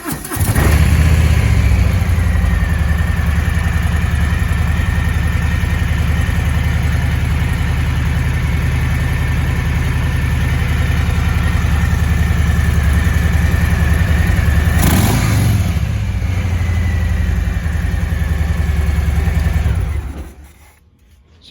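A 2019 Harley-Davidson Breakout FXBRS motorcycle with 462 miles on it starts up and settles into a loud, close, steady idle that rumbles for about twenty seconds before cutting off. No one speaks over it.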